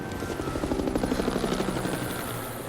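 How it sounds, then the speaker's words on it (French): Helicopters approaching, a loud rhythmic rotor thudding with a steady engine whine, holding close and constant throughout with no voices over it. "Si on échappe aux hélicos, on a une chance."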